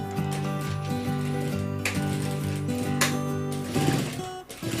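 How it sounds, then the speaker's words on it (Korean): A sewing machine runs in short rhythmic bursts while stitching a fabric juicer cover, close and steady, with a brief pause and clunk toward the end. "한 번 더 박음질 해주세요"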